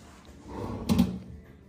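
A large drawer in a hotel room at Universal's Cabana Bay Beach Resort is pushed, giving a single close, soft wooden rumble with a muted thud at the end, without any speech.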